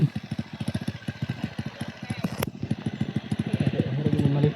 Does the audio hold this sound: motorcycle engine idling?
yes